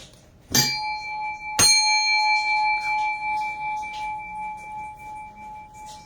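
A meditation chime is struck twice, about a second apart, each strike ringing out loud and clear with a long, steady sustain that hangs in a quiet room.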